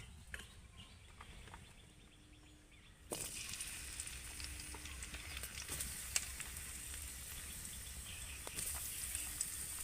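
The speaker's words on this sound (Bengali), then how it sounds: "ওই তেলের মধ্যেই আমি দিয়ে দেব পেঁয়াজ" Chopped onion dropped into hot oil in a wok, erupting into a steady, bright sizzle that starts abruptly after a quieter moment and keeps frying loudly, with occasional small pops and spits.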